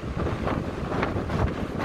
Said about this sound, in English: look how the wind blowing